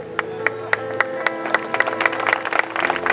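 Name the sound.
audience applause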